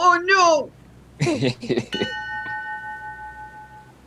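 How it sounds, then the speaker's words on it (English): A ship's bell gives one clear ding and then rings out slowly in a tabletop game session. It follows excited voices talking over each other. "As you hear the dinging of the bell"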